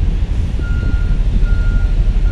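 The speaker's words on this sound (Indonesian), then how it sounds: "Padat dengan kendaraan truk, mendominasi malam ini kendaraan truk." Trucks queue at night at Bakauheni port while one truck sounds a loud, evenly spaced reversing beep over a dense, rumbling idle of heavy engines close by.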